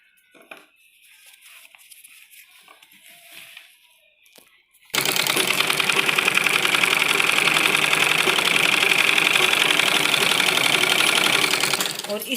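A sewing machine stitches the sleeve hem of a men's kurta, running in one loud, steady, continuous whir after about five seconds of quiet handling sounds.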